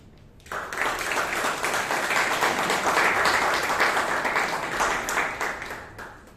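Applause breaks out at a Toastmasters club meeting in Bangalore, starting suddenly after a brief quiet moment and holding as a dense, steady round of clapping from a roomful of people.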